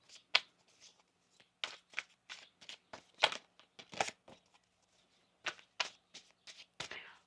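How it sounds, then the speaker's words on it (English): A deck of tarot cards is shuffled by hand close up, giving quick, irregular riffles and slaps in short bursts separated by brief pauses, faint and crisp in a quiet room. "One more shuffle here."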